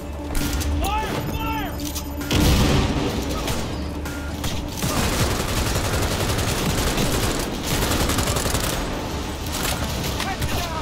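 Rapid automatic gunfire in the video game Cyberpunk 2077, loud and dense bursts with mechanical clatter, under shouted combat voices.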